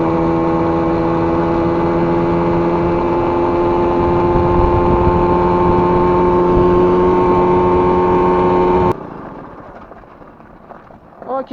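A KTM Ponny 2 moped engine with breaker-point ignition runs steadily with a buzzing, harmonic drone that holds for about nine seconds, then cuts off abruptly, leaving faint low rumble and a few small knocks.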